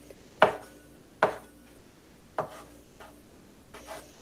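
A sharp kitchen knife chops through food for a hand pie on a cutting board, four or five crisp, separate knocks spaced unevenly, close and clear over a quiet room.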